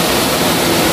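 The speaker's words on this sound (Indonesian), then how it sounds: "Airnya cukup deras karena semalam tuh habis hujan guys" Rushing water of the Cimanuk River, running fast after overnight rain, fills the clip with a loud, steady broadband roar heard up close and without any voices.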